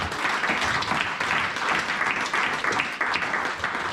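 Church congregation applauding during a French-language sermon on the Lord as shepherd: steady, dense clapping from many hands that fills the whole moment without pause, loud and close.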